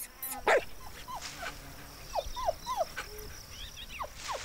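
Small dogs yap and bark in quick, scattered bursts around a newborn fighting bull outdoors, with chirping birds or insects throughout the background and no voices.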